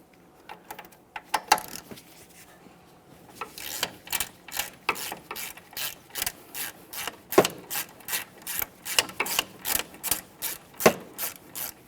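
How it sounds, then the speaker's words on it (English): A ratchet wrench removes the lower bolt on a 2010-2013 Kia Forte Koup steering rack. After a few scattered clicks, it settles into a steady run of quick, rhythmic clicking strokes, close and clear. "we'll continue on to fully removing the lower bolt as well."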